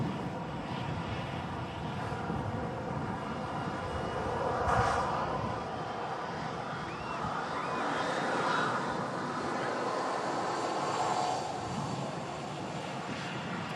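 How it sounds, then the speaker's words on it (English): An Atlas Air Boeing 747 jumbo jet departs Manchester Airport, its engines a broad, steady roar that swells and holds for the whole stretch, loud and continuous with wind-like rushing layered over it. "What an epic and iconic airliner this is. The classic jumbo."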